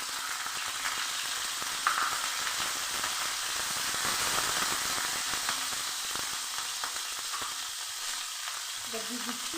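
Green chillies and panch phoron frying in mustard oil in a wok, a bright, crackling sizzle close up that stays constant with small pops and spatters, without any speech.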